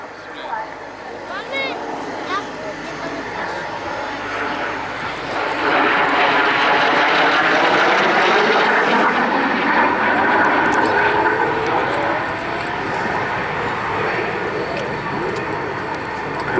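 An F-86 Sabre jet flying at the RAF Cosford airshow, its engine roar swelling loud and steady as it passes, with a commentator talking over it and a crowd audible in the background.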